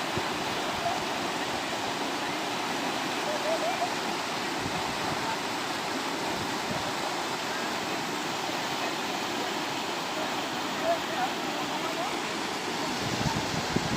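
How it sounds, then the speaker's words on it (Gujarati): Strong water flowing at Dantiwada dam on the Banas river, a dense, steady roar of rushing water that fills the whole stretch without pause, close and continuous. "જોરદાર પાણી, ખૂબ પાણી।"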